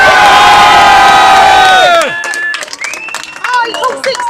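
A loud crowd of protesters at 10 Downing Street in London cheers and shouts together, with many voices yelling and chanting at once, then breaking into scattered whoops and calls.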